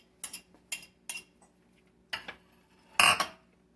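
Hard corn nuts rattle and clink onto a metal cookie sheet in a kitchen, five or six bright, close bursts of scattering kernels separated by short pauses, the last one loudest.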